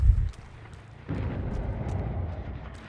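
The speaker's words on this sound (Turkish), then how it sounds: "Bir şey patladı." In the video game Dead by Daylight, a generator explodes: a deep, booming blast hits at the start, then a low rumbling roar swells and continues steadily afterward.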